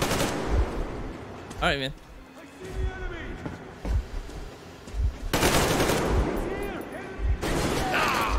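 Gunfire in Metro Exodus comes in loud, close bursts of rapid shots separated by short pauses, with someone talking between and over the firing.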